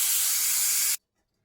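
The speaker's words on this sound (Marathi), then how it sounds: "आता वाफ काढून घेऊ." Steam hisses sharply out of a pressure cooker used for steaming peanuts, a loud, steady, close burst lasting about a second before cutting off abruptly into silence.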